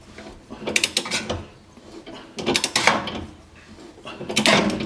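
A ratchet tightening the differential bushing bolt on a 350Z/G35, bursts of quick clicking in three separate runs with pauses between, close up and fairly loud.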